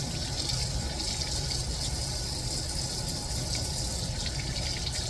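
Running water from a tap gushes steadily over brass trumpet slides and valves during cleaning, making a continuous close, even splashing rush with no speech.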